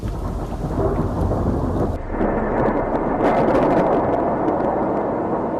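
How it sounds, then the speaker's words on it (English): Thundersnow during a heavy snowstorm from New York City to Philadelphia, a loud, sustained rolling rumble with a sudden shift midway into a steady noisy roar. "accompanied by flashes of lightning and thunder snow"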